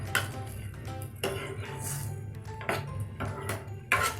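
A spoon knocks against goat brain in a cooking pan to break it up, giving a handful of sharp metallic clinks spaced about a second apart over a steady low background hum.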